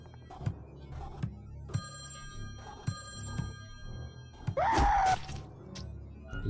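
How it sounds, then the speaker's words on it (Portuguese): Telephone ringing in the Friday the 13th video game, a series of repeated electronic rings at moderate level over low game ambience, followed by a burst of a louder sharp cry. "agora tem a mecânica do telefone também"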